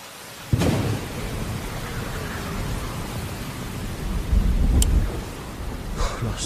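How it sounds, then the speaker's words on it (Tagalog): Heavy, steady rain roars throughout, with a sharp thunder crack early on and a deeper rumble building later, all loud and close with no voices. "Lakas ng ulan ah."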